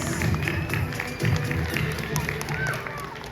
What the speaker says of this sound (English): let's give them a round of applause for our participants